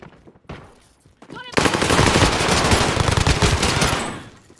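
Rapid, dense gunfire from a weak gun in the video game Warzone bursts loudly after a few quieter sounds and continues in a sustained rattling stream before fading.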